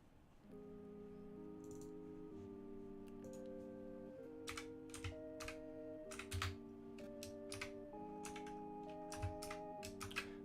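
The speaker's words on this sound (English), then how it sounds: "typing sideways is hard." Keyboard typing on a computer during a charity stream of Magic and Pokemon card openings, brisk irregular key clicks over a steady sustained musical backdrop, moderately faint and close.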